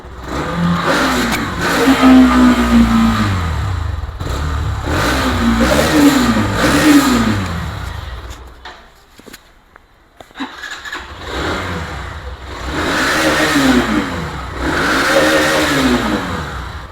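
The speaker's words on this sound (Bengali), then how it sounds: "বাইকটির একটু সাউন্ডটা দেখাচ্ছি" A Hero Extreme 125cc motorcycle revs hard and loud nearby in repeated rising and falling bursts. A short quiet gap follows, then more revving, with no talk over it.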